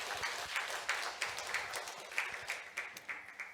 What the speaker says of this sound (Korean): 우리 하나님께 큰 영광의 박수 한번 드리겠습니다.